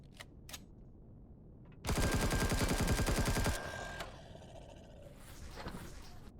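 In Empyrion Galactic Survival, a couple of isolated gunshots are followed by a sustained burst of rapid automatic fire lasting almost two seconds, then quieter scattered shots, all fairly faint overall.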